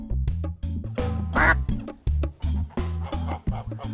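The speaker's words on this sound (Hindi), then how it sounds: "ब ब से बतख" A duck quacks repeatedly in a quick, loud series of nasal calls, close and clear, with no other sounds.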